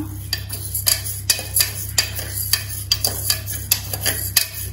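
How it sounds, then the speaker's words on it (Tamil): Lentils dry-roast in a pan, stirred with a utensil in a quick, uneven run of close scraping clicks over a low steady hum. "லைட்டாக வறுத்துக்கோங்க. ரொம்ப அது கலரெல்லாம் சேஞ்ச் ஆகாது."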